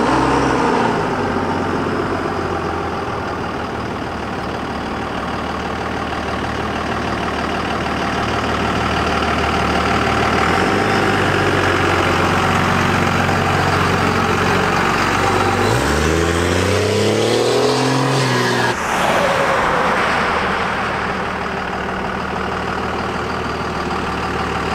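A car engine idles and rumbles steadily close by, then pulls away with a rising rev as it rolls down the road past a driveway, a continuous loud motor drone throughout.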